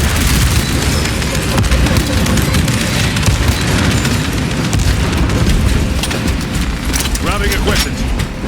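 A frag grenade detonates amid heavy combat in Warhammer 40000: Space Marine 2, with a deep boom swallowed by a loud continuous wall of gunfire and rumble while voices call out over it.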